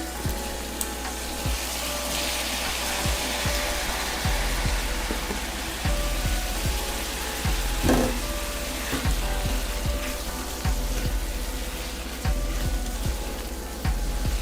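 Tomatoes sauté in a pan for chimichurri chicken rice, a continuous close sizzle with soft spattering and repeated clicks of a utensil against the pan, with no one speaking.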